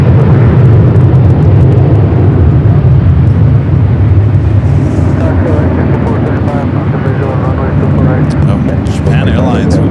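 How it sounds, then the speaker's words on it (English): A United Boeing 757 airliner takes off at LAX with a loud, continuous roar of jet engines that fills the scene, steady throughout and rising into a hissing whine near the end, with a voice talking over it. "Also have United at 757 heading up here for north side at takeoff"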